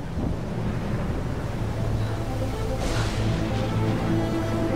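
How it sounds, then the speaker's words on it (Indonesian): Strong wind roars in a steady, loud rush close to the microphone, with a dense broadband buffeting that keeps on without a break, evoking a storm over a lake. "angin adik-adik, angin kencang."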